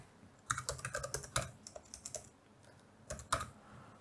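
Quick bursts of keystrokes on a computer keyboard while entering code, clicking in uneven clusters with a short pause before a final few taps, close and fairly quiet.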